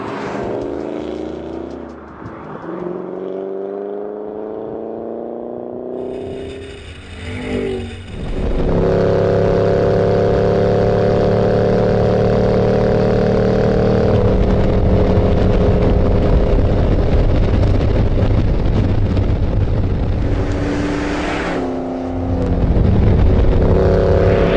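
A 2013 Ford Shelby GT500 runs flat out on the high banks of a 5-mile oval, its engine droning loud and steady as it shifts up through the gears, then holding a sustained high-speed roar with a brief lift near the end.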